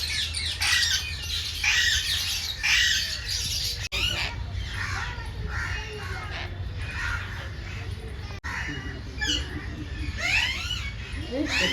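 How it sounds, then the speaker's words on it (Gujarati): Harsh parrot squawks and calls repeat throughout, mixed with chirps, at Kankaria Zoo in Ahmedabad, while a person talks over a steady low background hum. "અલગ અલગ પોપટ તમને જોવા મળશે જોઈ શકો છો અંદર પોપટનો ઢગલો છે"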